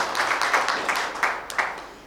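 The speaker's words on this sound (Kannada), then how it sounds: "ಅದಕ್ಕೊಂದು ಜೋರ ಚಪ್ಪಾಳೆ ಇರಲಿ" Audience applause at a first-anniversary ceremony in Kalaburagi, heard as a brief run of moderately loud, rhythmic claps.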